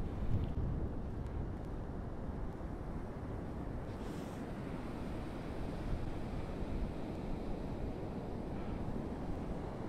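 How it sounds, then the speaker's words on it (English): Heavy Atlantic surf rolls and breaks steadily on the Fire Island beach in winter, with big swells from the south and a north-northwest wind, giving a loud continuous roar with wind buffeting the microphone throughout. "because you got these giant rollers coming in from the south, and with the wind out of the north-northwest, when the waves break"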